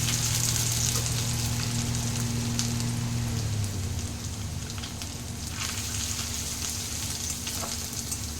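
Garlic frying in hot oil, a dense, steady crackling sizzle close up with a low hum fading out partway, no voices.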